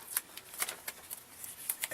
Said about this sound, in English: What you're hearing is me taking 2-inch tape.